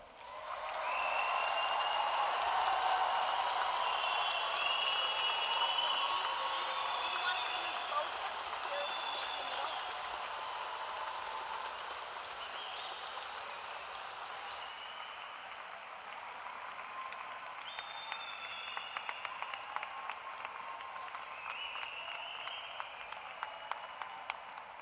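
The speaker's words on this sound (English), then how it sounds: "The applause is well deserved." A high school graduation crowd applauds the class of 2021, a broad, loud wave of clapping and cheering that slowly fades while a speaker's voice continues over the tail.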